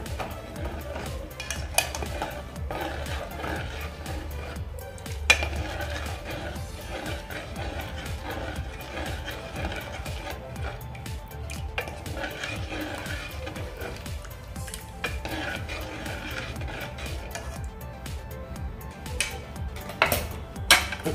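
A pot of besan mixed into buttermilk being stirred for takachi kadhi: a steady soft swishing with scattered light metallic clinks of the spoon against the pot, some louder, running throughout.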